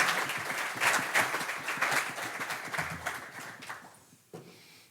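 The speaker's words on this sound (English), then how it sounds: "Big round of applause for Candy." A live audience at a car-enthusiast show gives a round of applause, steady dense clapping for about four seconds before it thins out and fades, with a brief final burst near the end.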